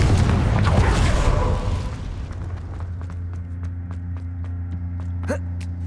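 A Confringo blasting spell in Hogwarts Legacy goes off as a loud, broad explosive burst that decays over about two seconds into a low rumbling hum, with a few faint clicks and a small pop afterward.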